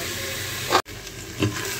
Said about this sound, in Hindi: तो चलिए इसको भूनते ही तकरीबन 5 मिनट लगेंगे इसको अच्छे से भूनने में, यहाँ तक कि ये चिकन गोल्डन कलर का हो जाए